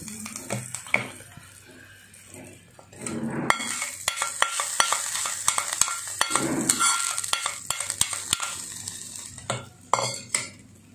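Ingredients sizzle in coconut oil in a pan, with soft crackling and frequent sharp clinks and scrapes of a utensil stirring against the metal, steady and close.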